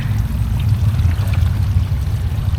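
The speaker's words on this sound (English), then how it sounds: "We got water kicking up through there" Steady low rushing and churning of water surging up through a koi pond pipe, continuous and fairly loud with no voices.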